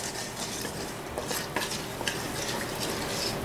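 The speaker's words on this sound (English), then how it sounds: "Stir that up." Yeast being stirred into microwave-warmed milk, soft scraping and light clinks of a utensil against a bowl, quiet and close with a few sharper taps.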